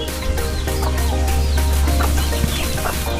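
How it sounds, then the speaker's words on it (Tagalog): Chickens clucking near an azolla pond, several short irregular clucks over a loud steady low hum, fairly close. "Ganon din po yung mga manok."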